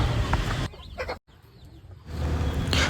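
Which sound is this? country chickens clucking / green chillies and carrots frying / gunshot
country chickens clucking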